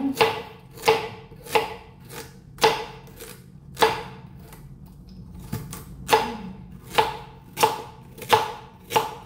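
A knife chops firmly against a cutting board in a series of sharp, close thuds, with a short pause midway before the chopping resumes.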